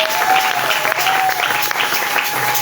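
A church congregation applauding, dense sustained clapping from many hands with a faint voice rising over it.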